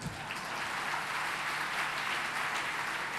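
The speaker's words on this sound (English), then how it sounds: "Round of applause for him." Audience applause at a gala dinner, a dense, steady wash of clapping from a large crowd that holds evenly for the whole stretch without any voice.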